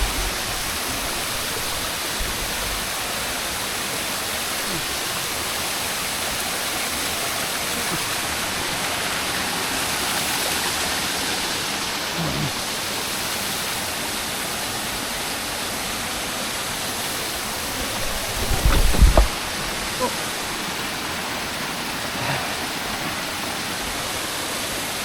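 A waterfall feeding the Nant Melon stream at Hendre'r Mynydd gives a steady, full rushing roar that holds constant throughout, with a brief louder splash or knock partway through.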